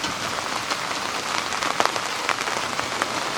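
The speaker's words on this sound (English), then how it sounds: "So here comes the rain." Rain pattering steadily on a tarp and surrounding ground during an outdoor camp storm, a dense close hiss with scattered sharper drop impacts and no speech.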